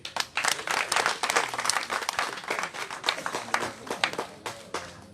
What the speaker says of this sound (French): Veuillez encore applaudir généreusement M. Aimé Nzamba